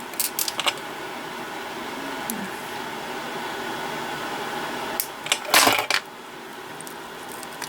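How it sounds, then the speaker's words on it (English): Beading wire snipped with cutters over a glass tabletop for a beaded necklace, heard as a few sharp, bright clicks and clatters: a brief cluster near the start and a louder burst toward the end, with quiet room noise between. "Okay, I'm going to cut my wire."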